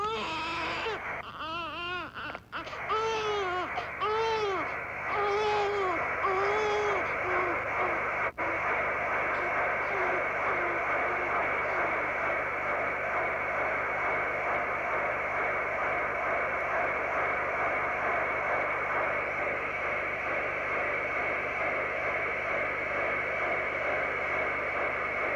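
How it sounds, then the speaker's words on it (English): Womb music played from a cassette to soothe a baby, a loud steady whooshing hum that continues throughout, with a baby crying over it during the first several seconds before the crying stops. "the most effective method they've examined is a cassette of this womb music."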